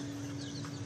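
Brief soft clucking from a chick at a mini zoo, a faint chirpy call over a steady background hum.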